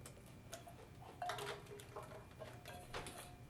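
A spoon scrapes and taps as the contents of a bowl for an egg and cheese strata are emptied into a pan, a few light clinks and scrapes over a quiet background, close but soft.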